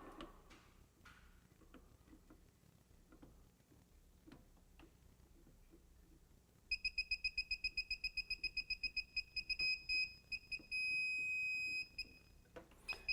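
Faint hum and clicks at first, then a circuit breaker finder gives a rapid series of high electronic beeps, pulsing quickly before holding into a steady tone, with a final blip.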